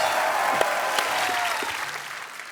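Studio audience on a comedy talk show applauds for Bollywood stars Ranbir Kapoor and Aishwarya Rai, a steady, full round of clapping with crowd noise and a voice briefly heard beneath it.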